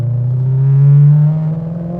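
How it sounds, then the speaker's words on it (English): Ferrari-built 4.2 V8 of a Maserati Cambio Corsa on a downshift, a loud close engine note swelling and falling back, with no clear distinct exhaust crackle standing out. "you have beautiful pop and bang. You know, it's an incredible sound from the exhaust"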